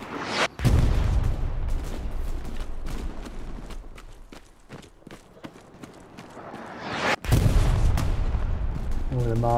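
Mortar shells and gunfire in the WWII shooter Hell Let Loose come as sharp cracks and heavy thumps, with two big close booms near the start and end over a steady battlefield rumble.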